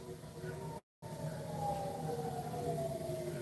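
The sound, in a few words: air raid sirens going off in Tehran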